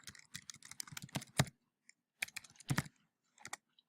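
Fast typing on a computer keyboard in a spreadsheet, quick bursts of clicking keystrokes broken by short pauses, close and fairly quiet.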